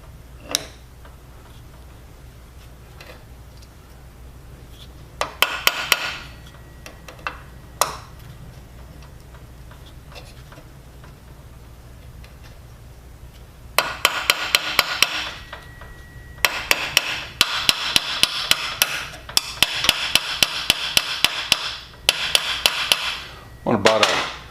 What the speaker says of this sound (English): I'm going to tap them in about half the length